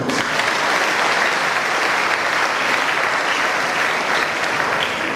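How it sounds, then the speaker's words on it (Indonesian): Dense, continuous applause from a church congregation runs loud and steady throughout, with no voices standing out. "Tepuk tangan dulu."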